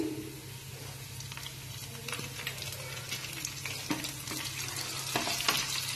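Garlic and chili frying in a pan for a sponge gourd dish, a soft continuous sizzle with scattered light pops and scraping stirs, fairly quiet and with no voices.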